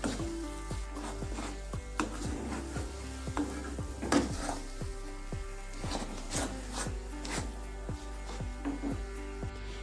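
A spatula stirs and scrapes sticky milk dough, made from milk with lemon juice, around a pan for a sweet, giving a steady run of close, rhythmic scraping strokes with faint sizzling underneath.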